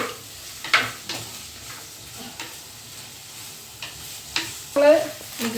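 Thinly sliced onions (two) and four or five green chillies sautéing in a pan give a soft, steady sizzle with occasional louder scrapes and clinks of stirring, no talk over it.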